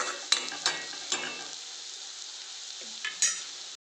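A mushroom and potato curry with red chili powder is stirred in a pan, with four or five distinct scraping strokes over a soft, close sizzle before it stops abruptly.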